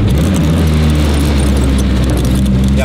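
A classic French project car's engine drones loud and steady from inside the cabin while driving, a deep constant rumble with road noise and no sharp revving.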